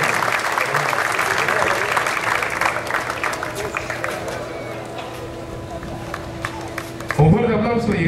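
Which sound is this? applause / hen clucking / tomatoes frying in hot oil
applause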